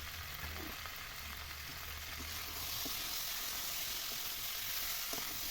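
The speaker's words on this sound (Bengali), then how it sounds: "এবার আমি এর মধ্যে দিয়ে দিচ্ছি এই ভেজে রাখা চিকেন আর আলুগুলো।" Fried chicken and potato pieces are stirred into a pan of cooking spice masala with chilli and tomato, producing a soft, continuous sizzle with light stirring sounds, quiet and without talk.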